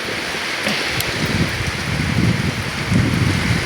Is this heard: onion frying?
no